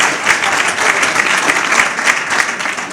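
Dense applause fills a town hall at a State of the Town address in Amherst, a steady close wash of clapping hands lasting the whole few seconds without a break.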